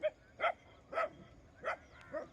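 Several dogs barking outdoors at a distance, five distinct barks spaced roughly half a second apart, moderately loud against a quiet background.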